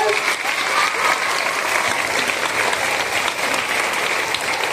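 Schoolchildren at a Tamil school applaud their teachers in thanks, a loud, continuous wash of many hands clapping together that holds steady throughout.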